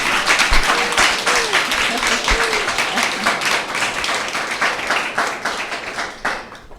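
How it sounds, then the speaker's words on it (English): Applause for startup pitch finalists at a Yale prize event, a steady wash of clapping from the audience that holds for several seconds and thins near the end, with faint voices mixed in. "Applause."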